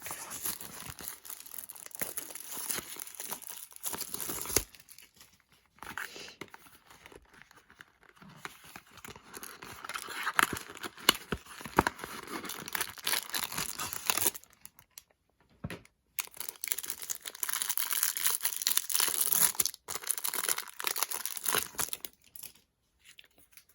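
NWSL soccer trading card pack torn open by hand, with close crinkling and tearing of foil wrapper in bursts over about twenty seconds, broken by short quiet gaps.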